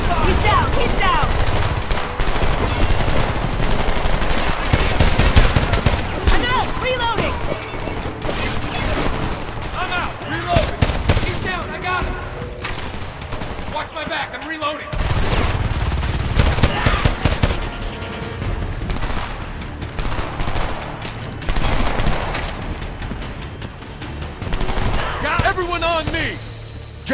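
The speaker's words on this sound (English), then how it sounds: "Under heavy fire!" Heavy gunfire in the video game Homefront: sustained machine-gun bursts and shots with booms and crashes, loud and dense through the whole stretch, with shouted voices mixed into the battle.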